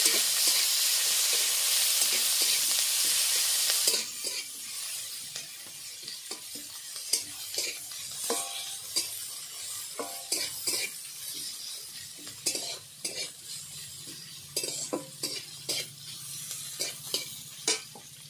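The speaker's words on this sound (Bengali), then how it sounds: "পেঁয়াজটা ভালোভাবে ভেজে নেব।" Two large chopped onions hit hot oil in a wok with a loud, dense sizzle, then settle into steady frying broken by repeated scraping and clinking stirs of a utensil against the pan.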